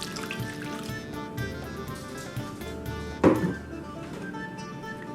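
Coffee poured into green velvet cupcake batter in place of water, a soft steady trickle of liquid under a quiet kitchen background, ending with a brief clunk.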